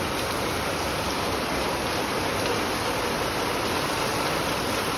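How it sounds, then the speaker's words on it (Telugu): Extremely heavy cloudburst rain pours down on a small residential road in Malkajigiri, with water rushing along the street, making a dense, steady, loud roar of broadband hiss that holds without pause for the whole stretch. "అతి అతి అతి అతి అతి భారీ వర్షం, చూడండి"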